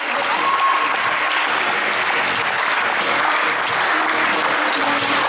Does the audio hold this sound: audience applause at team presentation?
yes